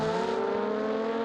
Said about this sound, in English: you can hear those glorious engines roll